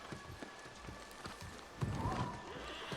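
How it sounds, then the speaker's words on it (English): Horse hooves clip-clopping in the video game New World as a summoned mount trots along, soft rhythmic steps in the background beneath game ambience, faint throughout. "I will summon my horse, Shunmado."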